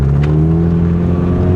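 A 2015 Ford Mustang EcoBoost convertible with the top down pulls away, its engine drone rising steadily in pitch, loud and close for a brief moment.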